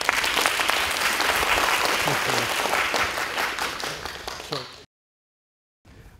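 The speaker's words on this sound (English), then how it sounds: "let us give a big applause to Professor Gary King" A lecture audience claps for Professor Gary King, a dense, steady wash of applause lasting about five seconds, then cutting to silence before a faint sound resumes.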